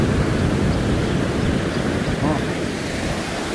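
Heavy surf from big waves at Timang Beach, Jogja, a steady loud roar of breaking water mixed with wind noise on the microphone, with no clear separate crashes.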